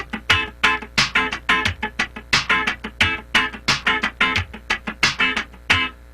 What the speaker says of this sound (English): you may have played it scratching the whole way through, and it sounds like this.